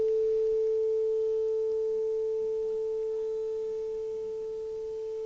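A steady pure sine wave tone sounds alone, heard as the listener's head moves away from the source, so it fades slowly and subtly in volume over several seconds.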